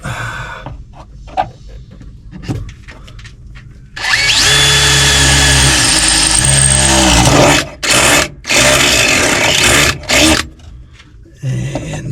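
A power drill whirs loudly in several bursts, starting and stopping with short pauses, after a stretch of quieter handling noises.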